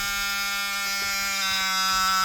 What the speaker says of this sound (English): gotta love that buzzer